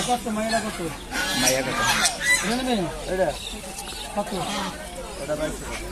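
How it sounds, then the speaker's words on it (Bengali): Muscovy ducks, including drakes, and other poultry at the Mostafapur bazaar market call and honk repeatedly, with overlapping squawks and clucks mixed under near, continuous talking voices and general market bustle. "এখানে আছে রাজা হাঁস মর্দা রাজা হাঁস"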